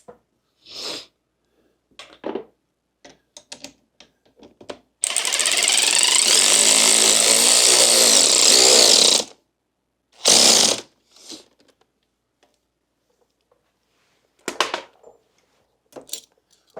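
Power tool hammers an exhaust nut tight on a Harley-Davidson Pan America Special, a loud, close buzzing rattle lasting about four seconds, then a shorter burst, set among scattered metallic clinks.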